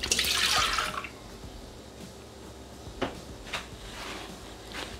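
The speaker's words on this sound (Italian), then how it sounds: "Iniziamo la ricetta mettendo all'interno del boccale il latte" Milk pours into the mixing bowl of a Thermomix (Bimby) kitchen machine, a short close splashing rush at the start that settles into faint drips and a few light knocks.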